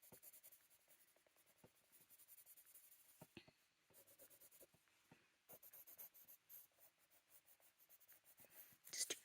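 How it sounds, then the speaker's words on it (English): A blender pencil rubs and shades across paper while a winter hat drawing is being made, giving soft, close scratchy strokes in uneven bursts, quiet and with no talking. "We'll do that with a blender pencil as well in a minute."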